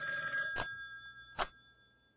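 A telephone bell rings twice in a video game, two short metallic trills about a second apart over a faint electronic background hum.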